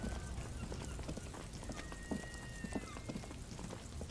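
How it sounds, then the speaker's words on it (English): Steady rain falling over the city of Revachol in the video game Disco Elysium, a soft continuous hiss with scattered drops and a faint tonal line drifting through, quiet and even throughout. "All around you, rain falls on the great city of Revachol"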